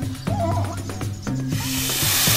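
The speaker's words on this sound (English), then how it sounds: "hissing like a boa constrictor" A boa constrictor hiss swells in the second half as a rising, breathy rush that grows louder to the end, following a run of low tonal notes.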